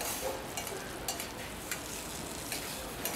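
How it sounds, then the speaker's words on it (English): Butter browning and foaming in a hot pan while being basted, a steady close sizzle with faint periodic ticks and scrapes from spooning, no talking. "We're going to let that butter brown up a little bit"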